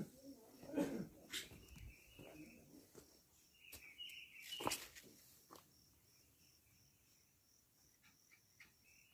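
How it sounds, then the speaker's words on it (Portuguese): Birds call at late afternoon on a simple mountain farm among fruit trees, cane, banana and palm: scattered chirps and short whistles over a steady insect drone, with light rustles and thumps nearby. "Mais pássaro cantando, ó, final de tarde."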